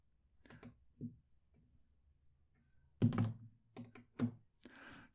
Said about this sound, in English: I'll take the caps off just so we can look at the nibs next to each other.